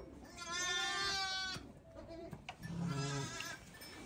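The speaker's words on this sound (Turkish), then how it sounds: "Kuzun arkandan geliyor Efe" Two drawn-out, wavering bleats from a lamb, one after the other, close by with a short pause between them.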